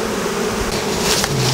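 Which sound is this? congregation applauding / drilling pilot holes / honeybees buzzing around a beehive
honeybees buzzing around a beehive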